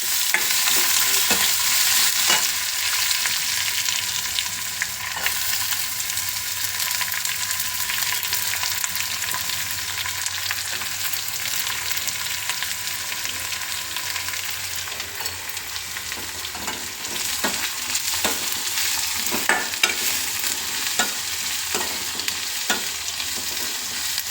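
Onion, garlic and ginger with crushed cloves and cinnamon frying in a pan for a potato palya, a long steady sizzle punctuated by repeated clicks and scrapes of stirring, close up and without talk.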